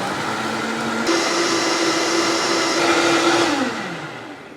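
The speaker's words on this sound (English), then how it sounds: "Put our top on our blender." A blender whirs steadily as it mixes protein pancake batter, a loud motor drone with a sustained whine that steps up in pitch after a second, runs for a few seconds, then winds down at the end.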